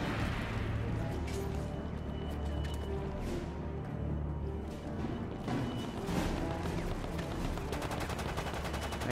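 Dense, continuous gunfire from the video game Resident Evil: Operation Raccoon City, with rapid automatic bursts and crashing impacts packed into a loud, unbroken battle mix.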